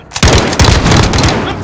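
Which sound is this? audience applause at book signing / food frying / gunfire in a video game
gunfire in a video game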